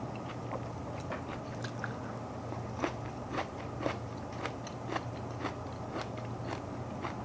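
Crisp bites and steady chewing of crunchy Hongyan red grapes with tough skins, close and fairly quiet, repeated crunches at an irregular rhythm with no talking.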